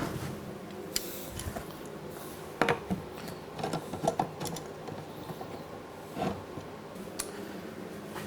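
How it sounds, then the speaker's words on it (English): Simple wood clamps being screwed down on both sides of a wooden form for a foundry furnace, giving soft irregular clicks, creaks and knocks close by with short gaps between. "So I got some simple wood clamps here, and we're going to put them on both sides and snug this thing in."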